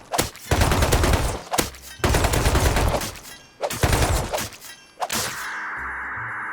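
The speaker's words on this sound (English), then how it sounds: "every time there's gunfire in one of these videos, it scares the ever-living shit out of you" Video game gunfire: loud bursts of rapid automatic shots in several rounds separated by brief pauses, with clanging impacts, ending in a low steady hum.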